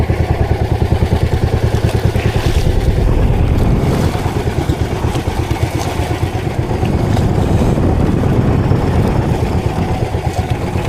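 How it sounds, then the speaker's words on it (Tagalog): Small fishing boat engine at sea on a tuna trip, a loud steady rhythmic throb with clattering hull noise and splashing as it rides through big ocean waves, close and continuous. "Ang laki ang alon."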